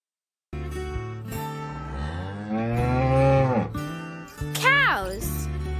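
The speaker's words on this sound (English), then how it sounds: "Cows are large farm animals." A cow moos loudly and at length, a drawn-out bellow that rises and falls, followed by a second shorter, higher-pitched moo, with no other sounds around it.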